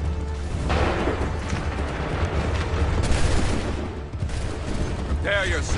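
Massed musket fire in Assassin's Creed 3 rolls on as a long, heavy barrage of overlapping booms and crackle, loud and steady, with a brief voice near the end.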